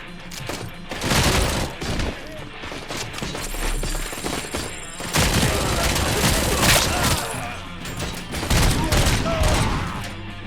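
Gunfire from the RoboCop: Rogue City video game, a dense, loud fusillade of rapid shots and cracks in bursts over about ten seconds, with game voices mixed under the shooting.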